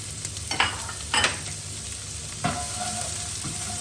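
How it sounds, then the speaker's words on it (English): Chopped onions hit a pan of hot coconut oil for a vegetable fritter mix, giving a steady close sizzle with a few louder hissing bursts as they are tipped in and stirred. "I'm going to add my onions"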